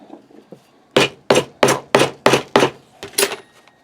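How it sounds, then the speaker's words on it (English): An awl is hammered through leather in seven sharp, evenly spaced strikes, close and loud, after a few faint taps. "hammering through with the awl"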